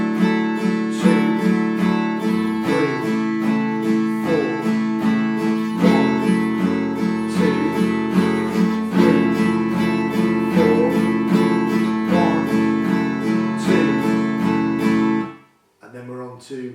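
An acoustic guitar strums a steady chord progression from a song, bright and close in an even rhythm, ending with a brief pause before a final strum.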